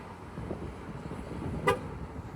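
A single short horn honk from a parked Chevy Silverado or GMC Sierra truck, confirming a tire pressure sensor relearn, rises briefly over steady low background noise.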